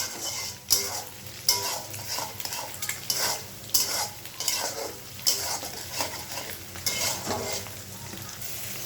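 Chow mein noodles hit a hot pan with fried egg and get stir-fried, a steady sizzle broken by repeated scraping and clattering strokes of a utensil against the pan, close and fairly loud with no talking.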